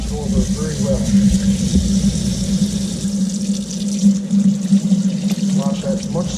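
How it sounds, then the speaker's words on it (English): Running cold tap water splashes steadily into a sink, rinsing salted Arctic char, close and continuous, with a low hum underneath and a voice speaking at times. "this is cold water on there. I'm going to wash it over very well."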